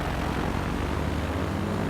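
Propeller airliner engines roar steadily as a plane takes off in the Transport Fever simulation game, a continuous loud drone alone throughout.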